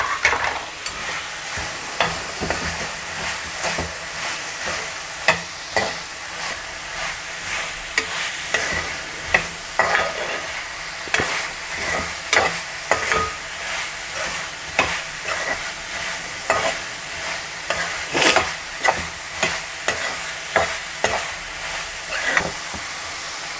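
Carrots, beans and cauliflower stir-fried in oil and masala in a pot, a continuous close sizzle punctuated by frequent rhythmic scraping and clattering stirs throughout, fairly loud with no talking.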